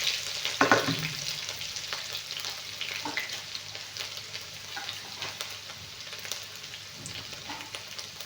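Garlic hits hot oil in a pan already tempered with mustard seeds and urad dal, giving a steady crackling sizzle with a sharp burst of spitting right after it goes in. The frying then settles into a busy, even hiss throughout.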